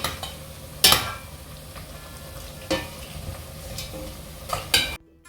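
Pork bubbling and sizzling steadily as it boils in a pot, with a few sharp scrapes and clinks of a utensil stirring.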